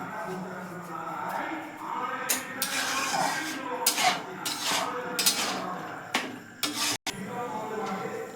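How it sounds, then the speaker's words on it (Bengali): Semolina stirred in a pan with a little salt to dry it out, a steady scraping and rubbing of spoon against the pan with sharper clinks, continuous and close. "এবার আমি নেড়ে নেড়ে এটাকে শুকনো করে নেব"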